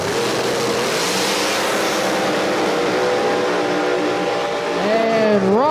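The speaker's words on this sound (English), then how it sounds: "Larry Larson in the right lane going up against Ryan Martin." No-prep drag race cars at Brainerd, Minnesota, blasting down the track in a loud, steady roar of engines that rises into a pitch sweep near the end, with an announcer talking over it.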